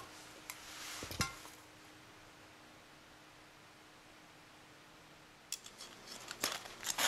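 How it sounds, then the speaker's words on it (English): Scissors cutting an aluminum drink can into two pieces, close crunching metal snips in a brief cluster early, then a quiet pause before a second run of sharper cuts. "take your scissors and insert them into your puncture mark, and doing your best to cut a straight line, slowly and carefully cut the can into two separate pieces"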